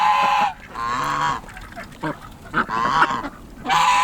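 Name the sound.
Welsh Harlequin ducks calling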